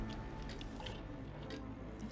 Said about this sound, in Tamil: இப்போ நம்ம தண்ணி ஊற்றியாச்சு.